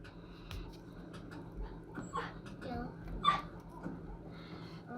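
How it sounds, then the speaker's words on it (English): A dog whimpers and yips faintly in a room during jig making, soft intermittent whines and small noises under quiet handling sounds. "And don't mind the dog making noise."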